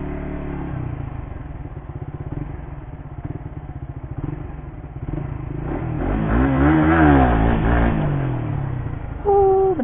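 A Suzuki GSX-R150 from 2020, stock and unmodified, revving loud and close during a wheelie attempt, its engine note rising and falling in throttle surges before a sharp high blip at the end.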